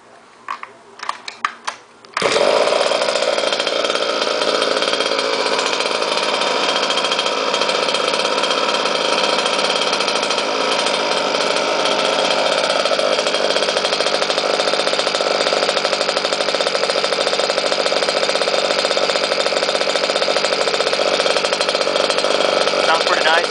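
A Goped Sport G260RC gas scooter engine with an Engine Trix Ripper deck fires up after a few brief pulls and then runs continuously, a steady, loud buzzing drone held near the microphone.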